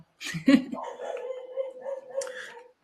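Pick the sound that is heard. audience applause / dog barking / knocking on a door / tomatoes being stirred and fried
dog barking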